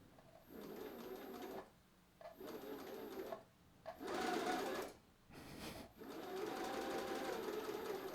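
A sewing machine driven by a motor under microcontroller speed control runs in close, buzzing bursts of a second or two each, with short pauses between them and a longer final run.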